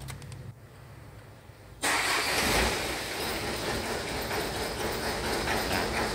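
An engine that had trouble shutting off is cranked and fires up abruptly, then settles into a loud, steady idle that hums on without a break; no one speaks.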